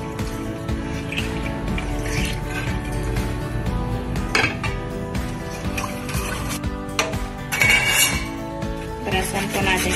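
Milk being poured into a pan of white sauce for chicken pasta, with clinks of utensils and pan, light splashing and scraping, moderately quiet and steady.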